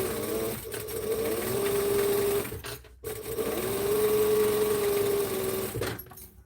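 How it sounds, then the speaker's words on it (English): A sewing machine quilting pieces of fabric runs in two steady stitching bursts, a close, even mechanical whir with a brief pause and clatter between runs. "I am literally just quilting the pieces and then I'll deal."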